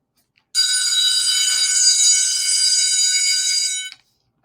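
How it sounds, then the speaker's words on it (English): A school bell rings in one loud, steady, harsh electric burst lasting about three seconds, starting and stopping abruptly, with silence on either side. "Let the bell ring."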